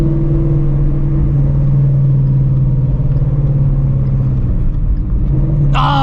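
A supercharged Shelby GT350 Mustang engine holds a steady, loud rumbling note, its revs sagging near the end as a rev match is missed on the downshift before the pitch jumps sharply. Nobody talks.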